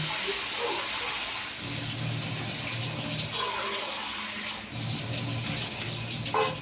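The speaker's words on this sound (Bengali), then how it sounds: "পরিমাণ মতো জল দিলাম।" Water pours into a pan of vegetable curry in a home kitchen with a steady, close gushing splash that keeps running through most of the clip, with brief shifts in flow.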